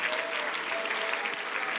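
A church congregation claps in praise as an offering, a thick, steady burst of applause from many hands with faint voices underneath.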